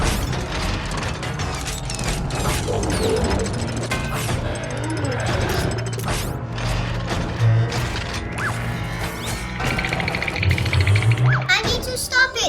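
A mechanical Batman toy whirs and ratchets steadily, with gear-like clicks and an occasional clunk, loud and close, while someone talks over it.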